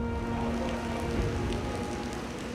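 Heavy rain falls in Bengaluru, Karnataka, a constant, moderately faint hiss of drops on surfaces with a low steady hum underneath.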